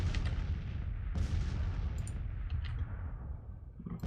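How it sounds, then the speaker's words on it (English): Artillery bombardment in the Civil War strategy game Grand Tactician: heavy cannon booms roll continuously, overlapping into a dense rumbling barrage with sharper reports cracking through, loud and unbroken for the whole stretch. "and then we're gonna go and bombard."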